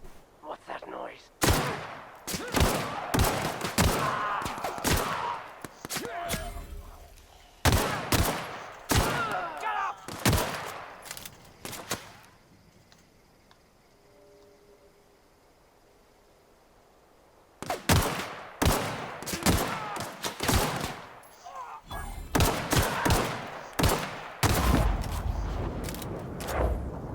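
Loud, dense bursts of gunfire in the video game The Outer Worlds, in two long volleys separated by a quiet stretch, with a voice speaking faintly under the shots.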